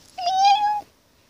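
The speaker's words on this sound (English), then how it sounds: "Sometimes he meows really quiet when he gets hurt." A cat gives a single clear, close meow lasting just over half a second, held on a steady pitch, with quiet around it.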